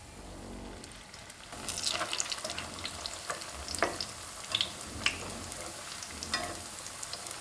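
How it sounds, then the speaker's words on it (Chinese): Youtiao dough sizzles in shallow hot oil in a flat pan, a close, quiet frying hiss that swells once the dough goes in, with scattered crackles and pops, no voices. "油热以后，我们放入油条的生坯"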